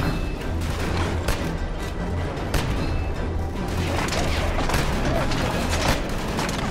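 Continuous dense gunfire exchange in Killzone 2, rapid crackling bursts and booms layered over a constant loud battle din.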